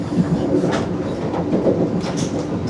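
Vande Bharat Express train between Howrah and New Jalpaiguri, heard from inside the carriage as a loud, steady rumble with rhythmic wheel clatter on the rails throughout.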